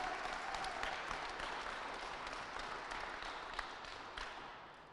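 An audience at a basketball final claps in a dense, steady round of applause that tapers slightly toward the end.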